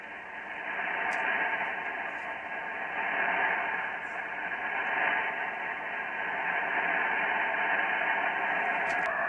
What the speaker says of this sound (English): I'm going to tune the loop until I hear a peak in the static noise